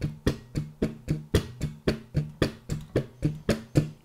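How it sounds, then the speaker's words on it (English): Muted ghost notes strummed on a bass guitar, a steady even run of percussive thuds about four per second, close and fairly quiet with no voice. "we just get these ghost notes"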